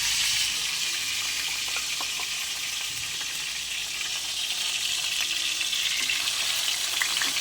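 Milkfish (bangus) sizzles and crackles steadily in hot oil, a continuous bright hiss with scattered pops, close by and without pause.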